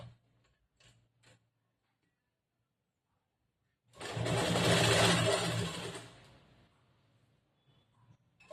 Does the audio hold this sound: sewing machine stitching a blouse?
yes